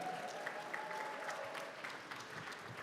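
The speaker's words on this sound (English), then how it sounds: "One more round of applause for Veronica" Banquet audience at a golf association awards dinner applauding, a faint but continuous wash of clapping from a crowded room lasting the whole brief moment.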